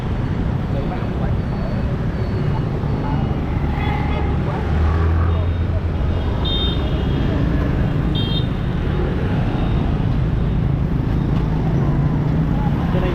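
Dense street traffic in Ho Chi Minh City, Vietnam, a loud, constant rumble of passing motorbikes and cars with occasional brief horn toots, heard up close while people talk over it.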